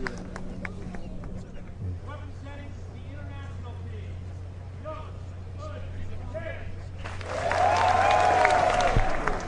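Applause breaks out from a golf gallery at the first tee of the Presidents Cup in San Francisco as Y.E. Yang of the international team is introduced. A quiet stretch of low murmuring gives way to a swelling burst of clapping near the end.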